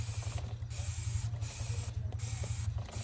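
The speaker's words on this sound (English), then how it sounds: "I'll just throw a coating on the chain." Dawn Power Wash is sprayed onto a motorcycle chain on a Yamaha YFZ450R quad in four short, close hissing bursts over a steady low hum, with no talking.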